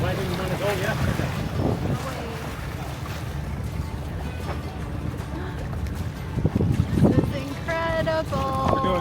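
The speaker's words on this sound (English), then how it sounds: "This boat operates only by wind." A sailboat moving under wind alone on a day of perfect weather off Boracay gives a constant rush of wind and water, with people talking faintly beneath it.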